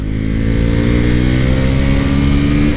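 A motorcycle engine held at high revs in sport mode, a loud, steady, droning roar close by, with no pauses and no talking.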